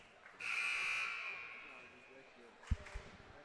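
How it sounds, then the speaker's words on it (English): Buzzer marking the start of the fourth quarter at a girls' high school basketball game in a gym, a loud sustained electronic tone lasting about a second and fading, followed by ball bounces and crowd noise. "So there's the buzzer to start up the fourth quarter."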